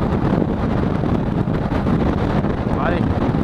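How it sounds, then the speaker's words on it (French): Strong wind buffets a boat out on the water, roaring loud and steady across the whole stretch as broadband rushing with no letup, the gusts dominating the scene. "Vu la force du vent qu'il y a"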